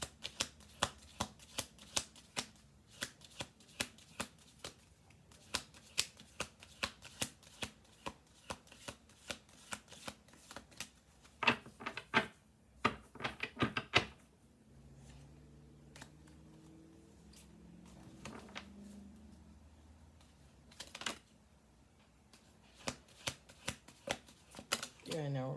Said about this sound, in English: We're going to do one more shuffle here.